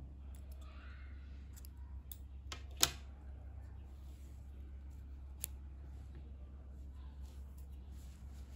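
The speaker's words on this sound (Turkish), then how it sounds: "İpliği burada kesiyorum. Biraz uzun bırakarak kesiyorum." Scissors snipping sewing thread, a few sharp clicks spread sparsely over a quiet background with a low hum, one snip louder than the rest.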